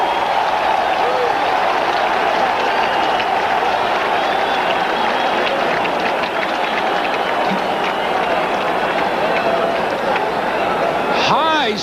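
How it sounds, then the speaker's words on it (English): A large stadium crowd roars and cheers after a partially blocked punt in an NFL game between the Denver Broncos and LA Raiders, a dense sustained loud roar throughout with a faint whistle near the end. "and the crowd loves it"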